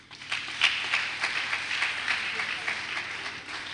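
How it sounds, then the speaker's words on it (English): Scattered audience clapping at a hybrid communication and media conference, uneven claps rising after a moment and continuing under a speaking voice. "I thought you would clap for him."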